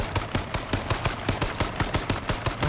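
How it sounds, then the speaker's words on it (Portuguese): Rapid gunfire in the video game H1Z1, a steady run of sharp evenly spaced shots at moderate loudness with no voices over it. "Por que vocês estão atirando, pelo amor de Deus?"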